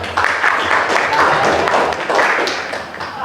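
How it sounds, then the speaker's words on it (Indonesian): A classroom of students claps after a teacher announces a group's grade, a steady wash of many hands throughout, fairly close and even in level. "Tepuk tangan."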